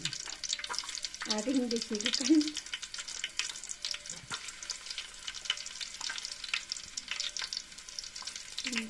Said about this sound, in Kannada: ಈಗ ಒಗ್ಗರಣೆ ಹಾಕ್ಲಿಕ್ಕೆ ಉಂಟು.